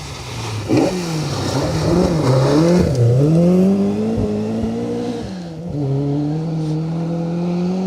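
Ford Escort Mark II rally car passing on a forest rally stage, its engine revving loudly with rising and falling pitch through gear changes as it goes by close.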